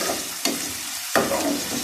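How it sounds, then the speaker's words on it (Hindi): Onions frying in a pan of spiced oil for a pea-and-chicken curry, a dense close sizzle with two sharp stirring scrapes, no talking. "और अब इसमें डालेंगे हम प्याज।"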